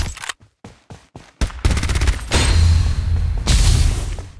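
Gunfire in the mobile game Farlight 84: several sharp single shots, then rapid automatic bursts and a heavy booming volley, loud and close.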